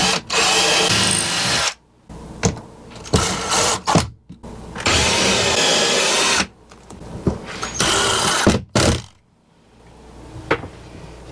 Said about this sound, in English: I'm going to drill it and screw it so that I can get it out fairly easily